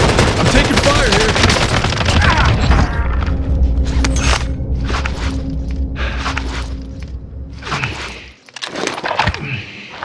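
Gunfire in a video game match: a heavy, continuous volley at first, then a string of separate sharp shots and short bursts spaced across the rest, loud and close, with little talk.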